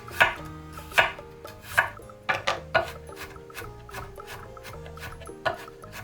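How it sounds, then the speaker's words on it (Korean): A knife chops garlic on a board in quick, uneven bursts of sharp taps, with soft music playing underneath. "가끔은 마늘에 잘게 잘린 질감이 좋아서 번거롭더라도 잘게 다져서 요리에 사용한답니다"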